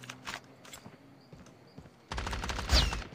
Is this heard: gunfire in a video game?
yes